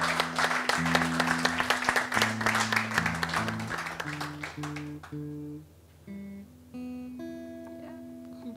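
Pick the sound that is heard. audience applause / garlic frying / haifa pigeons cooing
audience applause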